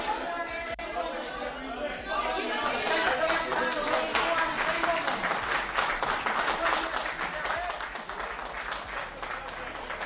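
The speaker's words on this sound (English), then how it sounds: "There's applause." Applause and crowd chatter after a political speech, clapping swelling to a steady roar through the middle while voices murmur underneath, heard at some distance.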